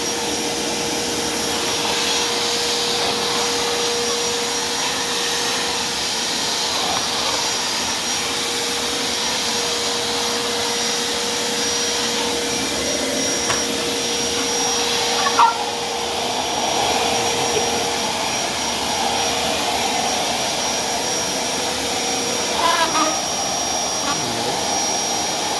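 A Black & Decker vacuum cleaner runs steadily in a gym, a constant loud whine and rush throughout with a few brief knocks and bumps near the end.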